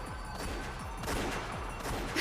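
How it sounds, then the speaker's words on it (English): Rapid repeated gunfire from the video game Umineko, a dense, steady burst of shots that goes on for the whole stretch with no pauses. "As soon as I heard the sound of repeated gunfire, I knew."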